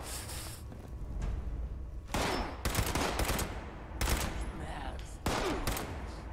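Bursts of rapid gunfire in the video game Fallout 76 ring out in several separate volleys, loud and dense, with brief quieter gaps between them.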